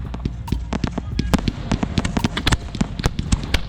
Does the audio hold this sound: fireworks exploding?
yes